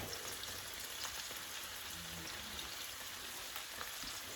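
Meatballs sizzle and brown in a pan for a healthy pasta dish, a faint, steady crackling hiss that goes on without a break and with no talking.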